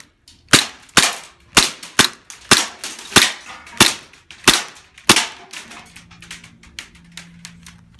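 A handgun fired repeatedly, about ten sharp, loud shots at a steady rhythm of roughly one every half second, followed by quieter mechanical handling sounds with no talking.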